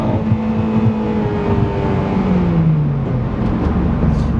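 A 2010 Honda Civic Si, naturally aspirated with VTEC, revs and accelerates in third gear from around 4,000 RPM, a steady close engine drone whose pitch climbs smoothly throughout, heard from inside the car with no talking.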